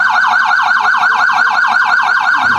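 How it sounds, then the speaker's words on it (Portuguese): A fire truck's loud, fast-warbling electronic siren cycles rapidly and continuously, close by, with no voices. "Entrou na viatura e até ligou a sirene."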